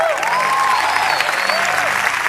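A large church audience applauds at a Lakewood 2016 event, an even steady wash of clapping for a couple of seconds with a faint voice underneath.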